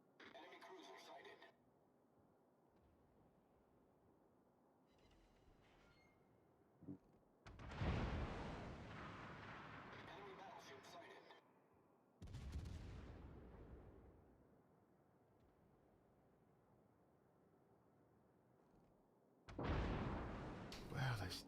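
Naval gunfire from enemy warships in World of Warships strikes toward the player's ship, heavy booming blasts and splashes arriving in several loud bursts separated by quieter stretches with occasional talk.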